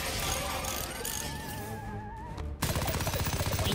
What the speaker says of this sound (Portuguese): Primeiro, você decidiu tentar levar vantagem no campo de batalha com a torreta de alta precisão.